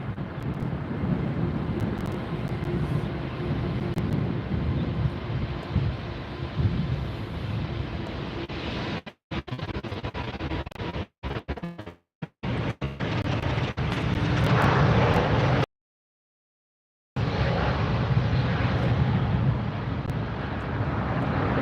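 Lufthansa Airbus A380 jet roaring during takeoff at LAX, a loud sustained low engine rumble with wind buffeting the microphone, briefly cut out partway through.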